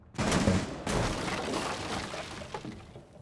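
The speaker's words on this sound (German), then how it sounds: "Aus der Küche kommen Schüsse hier rein" Gunfire from a kitchen in Rainbow Six Siege, a dense burst of loud cracks and crashing noise followed by a rumbling tail and a couple of softer shots, fairly close and alone.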